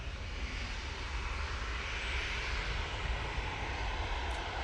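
A Jet2 Boeing 737 at Manchester Airport roars steadily as it comes in, a broad continuous engine rumble filling the air at moderate distance without pause.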